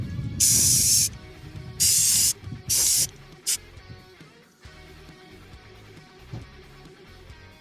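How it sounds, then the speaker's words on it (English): Three loud bursts of black aerosol spray paint hiss in quick succession onto a 3D-printed part, then a short fourth puff, with quieter handling noise around them. "spray the whole thing black because it does have a blue tint to it"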